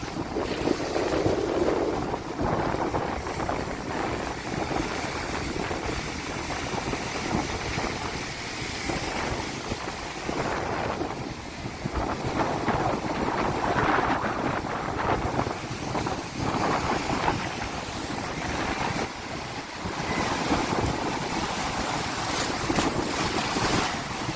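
Strong wind buffeting the microphone over the steady wash of sea waves at a fishing harbour, with fishing boats rocking in the surf; no talking.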